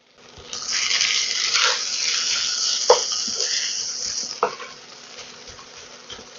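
Spices for an aloo matar finger pakora are mixed in a hot pan, giving a broad hissing sizzle with a couple of sharp utensil knocks before it fades.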